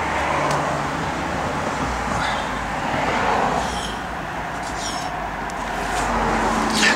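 A 1973 Chevrolet Camaro LT engine runs steadily, giving a continuous, moderately loud rumble with no speech over it.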